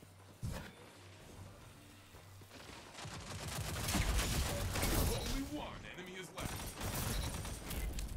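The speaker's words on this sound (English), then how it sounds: "I don't know who I baited with that machine gun, but it worked perfectly." Machine gun fire in Destiny 2 during a Lightfall Trials of Osiris match, with rapid bursts of shots and impacts building into a dense stretch of firing, mixed with a player talking over the gameplay.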